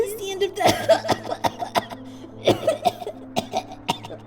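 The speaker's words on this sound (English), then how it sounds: "Trixie coughed suddenly, hitting her chest with a hoof to clear her lungs." A female character in a dramatic pony fan-fiction reading coughs repeatedly to clear dust from her lungs, a series of sharp, close coughs spaced irregularly across the stretch.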